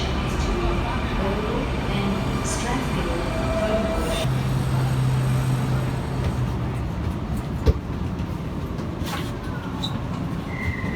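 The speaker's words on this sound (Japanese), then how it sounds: "電車が来ました。 2階建ての電車になります。" A double-decker commuter train pulls into a seaside Sydney station platform with a steady, loud rumble of wheels and carriages and a brief sharp clank partway through.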